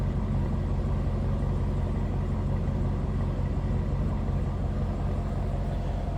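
A 2024 Chevrolet Camaro ZL1 1LE with a 6.2-liter supercharged V8 and throaty performance exhaust idles steadily, a close, continuous low rumble with no voices.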